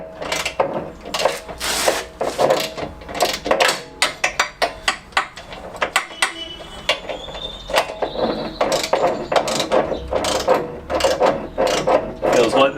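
A ratchet tightens a bolt while the engine is refitted to a classic Fiat 500, giving loud, close, rapid clicking bursts in uneven runs with short pauses between, and someone talks intermittently beneath.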